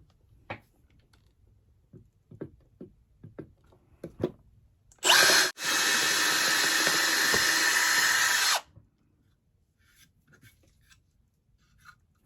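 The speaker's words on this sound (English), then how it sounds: "So we know where we can drill some holes." A power drill bores holes into a wooden table spindle: one short burst, a brief pause, then a steady loud whine of about three seconds. Quieter taps and handling knocks come before and after it.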